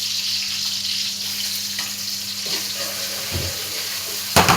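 Local onions fry in hot oil in a pan for a meat curry, making a steady, close sizzling hiss that swells briefly near the end, with no voices.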